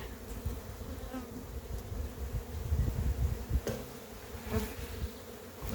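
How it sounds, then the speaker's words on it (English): Honey bees buzzing around a hive frame, a dense swarming drone close by with individual bees passing, no speech. "a whole bundle of bees have flown off of it"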